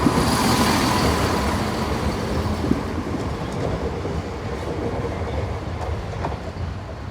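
A Northern passenger train bound for Scarborough rumbles steadily through Sheffield station, a broad continuous roar with a few faint clanks, heard alone without voices.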